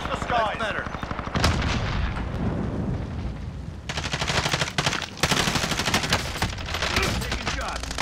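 Dense bursts of automatic gunfire and heavy explosive blasts from the Warzone Rebirth video game, loud and continuous with rapid volleys stacking over one another throughout.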